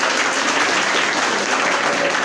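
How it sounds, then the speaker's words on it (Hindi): Loud, steady applause from a school or college audience fills the whole stretch as a dense wash of clapping with no talk over it. "इनके लिए एक बार जोरदार तालियां"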